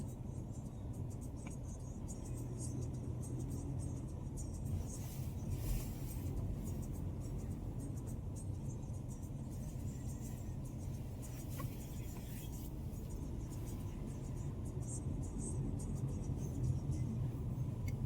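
Car rolling slowly through a customs checkpoint on a road trip route toward London, heard as a steady low interior rumble and road noise throughout, with no clear revving.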